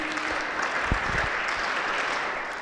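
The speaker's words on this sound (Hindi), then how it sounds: "ताली बजाइए फिर तो अपने लिए।" Audience at an ITM NSS camp speech in Gwalior breaks into steady applause, a dense wash of clapping with a few sharper claps near the middle, lasting the full few seconds with no talk over it.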